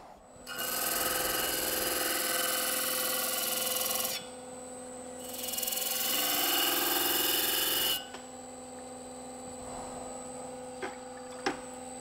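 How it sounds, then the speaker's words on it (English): A belt grinder grinds a knife blade in a workshop, two sustained loud rasping passes of about four seconds each separated by a brief lull, then the motor keeps running alone with a steady hum. "You see just how not flat the belt grinder is."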